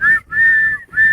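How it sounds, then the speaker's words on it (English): A whistle shrilling in three sustained blasts separated by short gaps, loud and close with no other sound around it. "Blow the whistle."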